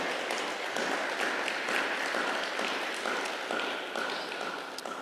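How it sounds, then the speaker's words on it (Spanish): Sustained applause from a church congregation, broad and steady for several seconds, filling the room without any speech over it. "Dele un fuerte aplauso ahí al Señor"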